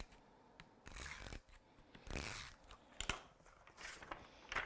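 Tape being pulled and pressed onto the back of an acetate sheet, heard as quiet crinkly tearing and sticking bursts separated by short pauses, close up.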